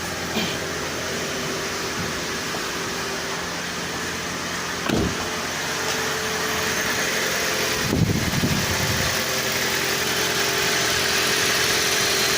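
A 2011 Toyota Prius engine idles steadily just after start-up, a smooth continuous hum with fan-like noise, close and fairly loud, with a few brief clunks and knocks partway through and no talking.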